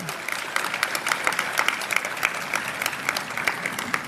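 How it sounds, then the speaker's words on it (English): A crowd at a ceremony honoring public school valedictorians breaks into steady, moderately loud applause, sharp hand claps ringing out throughout. "clap for that."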